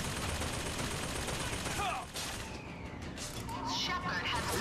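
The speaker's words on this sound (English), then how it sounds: "These damn turrets are all over the place so far." Turret gunfire in Bioshock Infinite: rapid, continuous automatic shots rattling loudly, briefly dropping off before resuming, with voices talking over the din.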